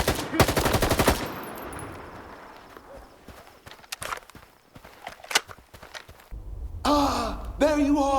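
Rapid automatic gunfire bursts loudly in the video game Stalker 2, followed by scattered single shots and footsteps, then a voice speaks at the end.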